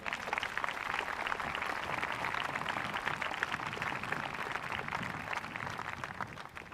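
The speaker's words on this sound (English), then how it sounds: "I'm done with that list, so we can applaud them now." Sustained clapping from an audience at a high school graduation ceremony, dense and even throughout with no voices over it, heard from a moderate distance.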